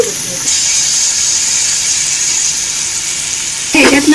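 Onions with added salt sautéing in a pan for prawn pulao, giving a steady close-up sizzle that runs throughout, with a brief stirring clatter near the end.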